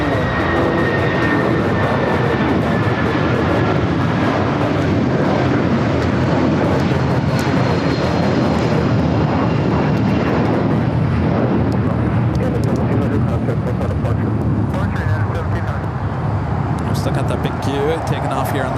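Airliner jet engines roar steadily as a plane takes off from the south side of LAX, a loud sustained rumble running through the clip.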